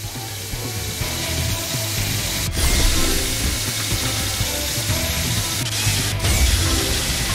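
A cartoon drill gives a steady mechanical whirring and ratcheting drone throughout, with a couple of sharp clicks partway through.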